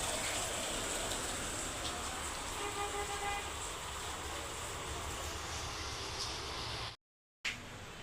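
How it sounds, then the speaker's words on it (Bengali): Steady rain pours through the night, a dense, even hiss filling the space with no breaks until a brief dropout near the end, then the downpour resumes at the same level. "আজকে মনে হচ্ছে রাত্রে সারা রাতেই বৃষ্টি পড়বে।"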